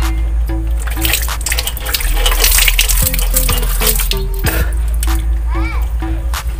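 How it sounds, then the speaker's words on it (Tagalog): Water scooped and poured with a plastic dipper (tabo) during a morning wash at a home without a tap, splashing and trickling steadily over several seconds beneath constant talk and children's voices. "Tabo-tabo tayo kasi wala tayong gripo"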